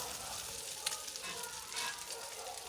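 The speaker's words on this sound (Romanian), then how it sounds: "prima dată o să fac feliile de bacon ca să lase niște grăsime pe plită" Bacon slices frying on a griddle, giving a steady bright sizzle with small pops and crackles throughout, fairly close and with no talking.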